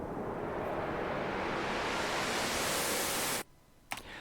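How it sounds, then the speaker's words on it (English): Broadband hiss from a synthesizer noise generator turned fully up with oscillators fully down, its filter slowly closing so the bright upper hiss fades downward, then cut off abruptly followed by a brief click. "that was just the noise generator turned all the way up and the oscillators turned all the way down"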